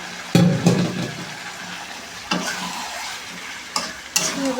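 Spice masala frying with previously fried potatoes and chicken in a pan, a continuous sizzle broken by several loud stirring scrapes and clatters, close up, no talking.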